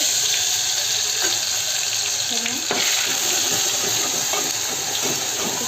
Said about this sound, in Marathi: आता आपण छोल्याच्या भाजीला फोडणी करून घेतो आहे